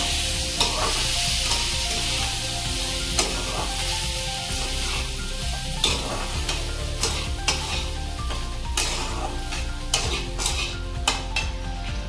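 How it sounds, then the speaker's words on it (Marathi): Sabudana tapioca pearls sautéed on full flame for a fasting khichdi, with a loud continuous sizzle and repeated rhythmic scrapes and clinks of a spoon against the pan, close up. "साबुदाणा चांगला परतून घ्यायचा"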